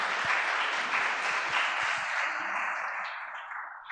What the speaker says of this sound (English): Can we give one more round of applause to our contestants?